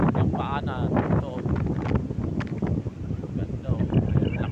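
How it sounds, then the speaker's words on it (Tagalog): Strong wind buffets the microphone with a low, blustery roar on a mountainside near windmills in Balaoi, while a person talks over it. "Lakas ng hangin."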